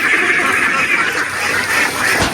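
A flock of domestic ducks (itik) on a rice farm quacking loudly and continuously at close range, a dense chorus of overlapping calls with no talk.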